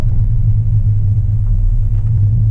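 An LS engine running a P59 computer idles with throttle hang, a loud, close, low droning rumble that holds steady with slight wavering, as if close to stalling, with no talking.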